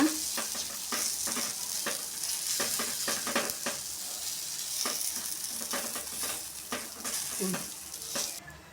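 Drumstick leaf dosa batter being spread across a hot griddle over medium flame, with a continuous sizzle and repeated scraping strokes of the spreading ladle, close and moderately loud, without speech.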